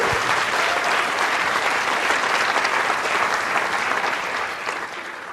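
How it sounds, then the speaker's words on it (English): An audience at a talk on effective planning gives a big round of applause. It is dense, steady clapping from a full room, loud throughout and tapering slightly at the end. "Give her a big round of applause."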